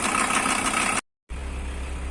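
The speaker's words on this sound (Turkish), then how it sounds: "Bu sesi merak edenler fren vakum pompası sesi bilginiz olsun." A Volkswagen Transporter T4 brake vacuum pump running: a steady mechanical whirring hum, briefly cutting out to silence before resuming at a lower, droning pitch.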